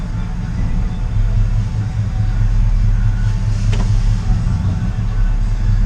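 A 1968 GMC truck engine idles in gear, a steady low rumble holding evenly throughout, with a brief faint click partway through and no talk over it.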